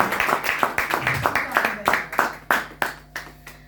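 Scattered hand clapping from an audience at an institute award night, a loose run of separate sharp claps that thins out and grows sparser toward the end.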